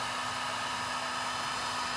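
A heat gun blows hot air in a loud, steady, unbroken roar with a constant motor hum while stripping old paint, close up and with no talking.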